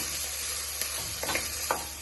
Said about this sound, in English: Onion and garlic, and allow it to saute.